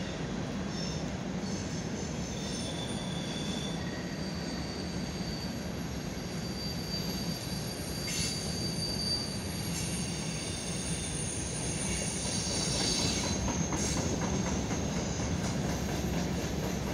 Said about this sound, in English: There's so many CSX Hopepr cars.